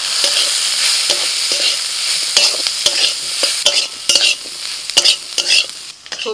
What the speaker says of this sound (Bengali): সবজির সাথে মশলাটা ভালো করে নাড়াচাড়া করে নিয়েছি